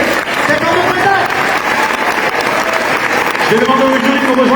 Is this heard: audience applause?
yes